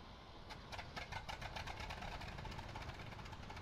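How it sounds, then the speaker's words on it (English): A Bristol Fighter biplane engine in the Flying Circus flight game cranks and catches, then settles into a steady, loud rhythmic chugging of regular firing pulses close by. "Let's get the engine started."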